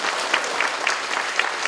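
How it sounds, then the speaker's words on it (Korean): Audience at the opening ceremony of a provincial mental health center in Jeollabuk-do applauds steadily, with a dense patter of many hands and a few sharper claps standing out. "박수로 축하해 주시기 바랍니다."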